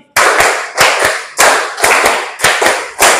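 A classroom of students clapping together in rhythm, loud group claps in tight bursts of one to three beats with brief gaps between, no talking over them.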